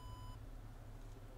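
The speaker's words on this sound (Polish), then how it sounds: "ten komputer po uruchomieniu będzie sobie tam, a jak widzimy, pika" A computer in the Minecraft OpenComputers mod beeps once after startup, a single clear electronic tone lasting about a third of a second over a low background hum.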